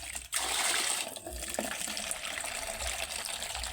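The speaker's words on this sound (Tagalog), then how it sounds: "Magdagdag tayo ng water." Water pours steadily into a container to top it up, a continuous broadband splashing rush that stays loud and even throughout with no talking.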